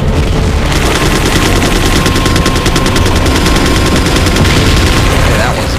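Rapid automatic gunfire from the video game Resident Evil 4 Separate Ways, a loud sustained burst of fast repeated shots lasting several seconds, with dense game sound effects beneath it.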